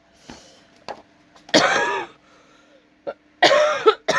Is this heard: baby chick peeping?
no